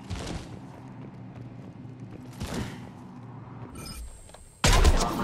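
Cannons fire during a Cerberus attack in the video game Mass Effect 3, heard as a few scattered booming blasts over a low rumbling backdrop, with a sharp, loud burst near the end.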